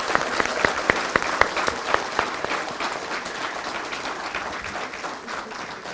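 An audience at a supply chain conference claps in a burst of applause, sharp individual claps at first, then a denser, steady patter that slowly fades, moderately near with no speech.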